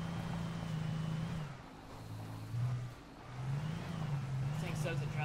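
A car in Alan Wake drives along a dirt road, its engine droning steadily and rising and falling in pitch as it revs and eases, with tire rumble underneath, continuous and moderately loud.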